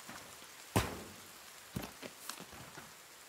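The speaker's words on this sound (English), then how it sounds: "Oh, why is it raining so much?" Rain pattering in the survival video game The Forest, a soft continuous hiss with a few sharper drops and splashes standing out, heard alone with no talk.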